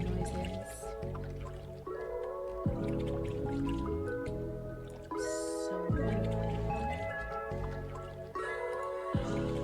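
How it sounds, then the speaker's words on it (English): Water dripping, a run of close, resonant plinking drops with squishy liquid tones, falling in an uneven rhythm and loud against a quiet background. "Happy water noises."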